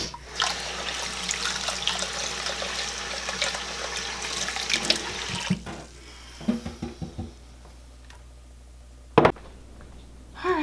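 A kitchen tap runs cold water into a sink as rice is rinsed, a steady broad rush filling the first half and then stopping, followed by sparse clinks and splashes, one short sharp burst, and water returning at the end.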